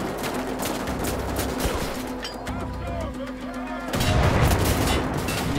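Rapid bursts of gunfire from the shooter game Wolfenstein: The Old Blood rattle in quick successive volleys with a steady background hum, loud and close, broken by a short lull before a heavier burst.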